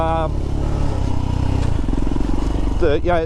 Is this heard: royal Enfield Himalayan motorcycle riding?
yes